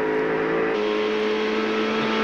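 Greg Murphy's Castrol Holden Commodore V8 touring car at Sandown in the 1997 Australian Touring Car Championship, a loud close engine howl with a sustained tone that shifts pitch partway through as the car pulls past.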